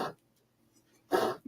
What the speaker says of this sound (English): My dog's having a coughing fit.